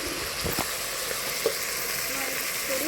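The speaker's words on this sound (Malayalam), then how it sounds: "2 സ്പൂൺ എല്ലാം കൂടി ചേർത്ത് വഴറ്റുക." Turmeric, chilli, garam masala and coriander powders sautéing in a pan, a steady close sizzle of frying throughout with a couple of brief stirring knocks.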